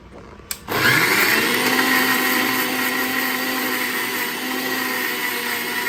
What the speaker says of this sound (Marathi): तर मिक्सर ग्राइंडमधून आता हे आपल्याला फिरवून घ्यायचं आहे